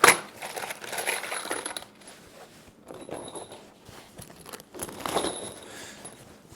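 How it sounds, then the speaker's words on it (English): A handful of screws is scooped and loaded into pockets, making scattered metallic jingles and clinks close by. The clinks come in several short bursts with no talking. "I think just gonna load up my pockets with some screws."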